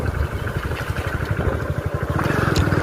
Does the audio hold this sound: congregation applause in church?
no